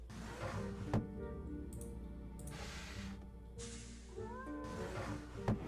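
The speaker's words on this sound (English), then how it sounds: "is the cat in there?" A cat meows inside the video game Nancy Drew: Mystery of the Seven Keys, a few quiet, drawn-out cries over low game ambience and faint thumps, with no talk.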